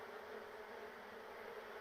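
Agitated bees in a game drone without pause, a thick constant buzz that stays level and near throughout, with no voices over it.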